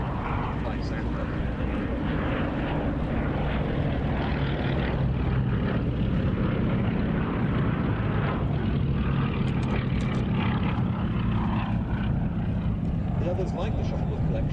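A British-built Westland Lysander flying at the RAF Duxford Battle of Britain airshow, a continuous loud propeller-engine drone held throughout, with crowd and commentary noise mixed underneath.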